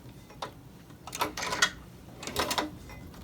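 Hand sewing through giraffe-skin leather for a cell phone holder: a few short pulling and puncturing sounds, scattered at first, then two brief bursts of close, crisp rasping stitches with quiet pauses between.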